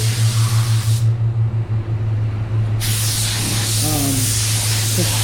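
A spray gun lays a light coat of water-based paint for a two-tone job, producing loud, close hissing that stops briefly and then resumes, with a short low voice underneath.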